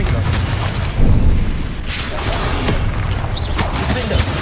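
Repeated booming, shattering blasts from the Confringo fire spell in Hogwarts Legacy, loud and dense over constant combat noise, with several sharp impacts spaced through the clip.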